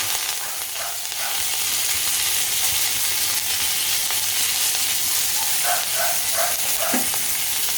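Curry leaves dropped into hot oil for a bitter gourd stir-fry, a loud, constant sizzle and crackle with a few sharper pops toward the end, with no speech.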